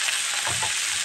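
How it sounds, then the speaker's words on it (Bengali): Ginger, garlic and green chili paste sizzles steadily in hot oil with spices, a close, continuous bright frying hiss with a brief stir near the middle and no talk. "ভাজা হয়ে গেছে আমার পেস্টটা, আদা রসুন আর কাঁচামরিচ।"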